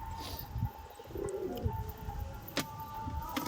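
Pigeons coo softly at a home loft where chicks have hatched, a few low murmuring calls rising over steady background noise, with faint chirps scattered through.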